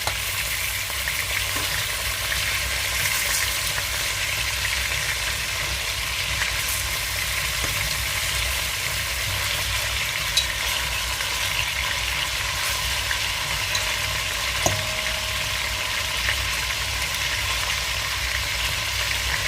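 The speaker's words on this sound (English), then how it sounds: "I'm gonna fry them for another 2 minutes on the other side" Chicken wings frying in hot oil give a steady, even crackle and hiss that runs throughout without a break, with a few faint clicks over a low background hum.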